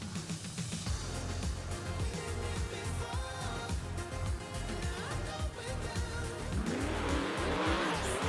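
Racing monster trucks, the Outbreak and the Willman, rev and roar off the start line at a New Orleans event, loud continuous engine noise with squealing tires building toward the end.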